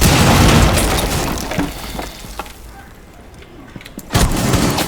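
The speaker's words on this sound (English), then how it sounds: "Setting breach charge." A breach charge explodes in the Rainbow Six Siege video game as a loud deep boom that rumbles and fades, followed by scattered debris clatter and a second burst near the end.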